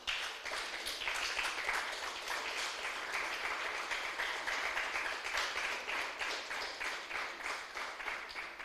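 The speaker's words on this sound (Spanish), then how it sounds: "Denle un aplauso fuerte al Señor, aleluya." A church congregation applauds in worship, steady and continuous clapping from many hands with a slightly rhythmic pulse, sustained for several seconds at moderate distance.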